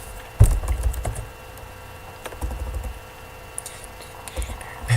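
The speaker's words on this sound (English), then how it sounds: "I can't type and speak at the same time" Typing on a computer keyboard while entering a password: sparse, uneven bursts of key clicks with pauses between them, close and moderately quiet, with no talking.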